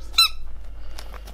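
A rubber dog toy gives one sharp, high squeak close by, followed by a few faint, softer squeaks, with no talking.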